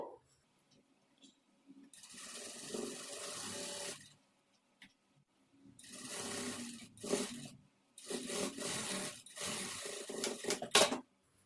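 A sewing machine stitches a blouse side seam in bursts of steady whirring, stopping and starting several times at close range, with no talk over it.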